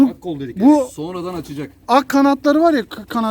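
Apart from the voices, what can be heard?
No distinct noise like a dog, phone or traffic.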